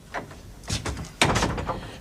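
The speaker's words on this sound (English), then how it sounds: "Or you can leave me to close the door." An interior door is pushed shut with a few short wooden knocks and a firmer closing thud near the end, close by and without speech.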